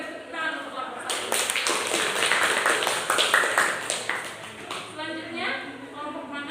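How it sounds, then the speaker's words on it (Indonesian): A classroom of students claps for group 1, a dense burst of applause lasting about four seconds that rises in and fades out, with voices murmuring underneath. "kita beri tepuk tangan untuk kelompok 1."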